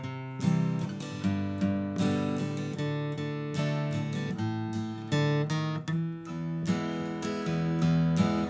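Guitar plays an alternate version of a riff, with dense strummed chords and quick picked accents, steady and loud, with no talking.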